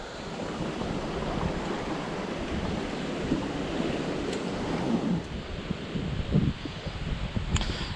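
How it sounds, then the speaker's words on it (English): Strong gusty wind over a lake, sustained around 19 with gusts near 30, roaring across the microphone while waves wash and churn continuously underneath. "the wind is a sustained 19 with gusts of 30"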